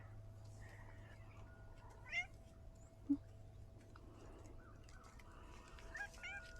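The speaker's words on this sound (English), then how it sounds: "Come on, kitty." A female cat on a farm gives two short, soft meows, well apart, against a quiet, hushed background.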